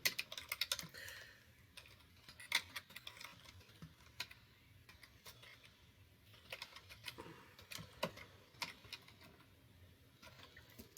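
Typing on a computer keyboard while searching for professional environmental engineering organizations, with quiet irregular bursts of key clicks spread across the whole stretch, no talking.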